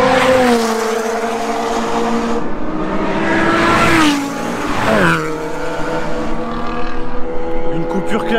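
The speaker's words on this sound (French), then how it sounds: "Et là en fait elle fait vraiment beaucoup de bruit cette 488" Ferrari 488 on a race circuit, its engine loud and close with rising and falling revs and a pass-by sweep, while a person talks over it throughout.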